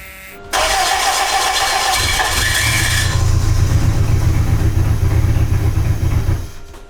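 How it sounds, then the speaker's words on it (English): A Yugo prototype car engine cranks over with help from an external fuel pump, catches, and settles into a loud, steady, rough running roar close up before cutting off. "With the help of external fuel pump, I was able to get the engine to crank better than it used to"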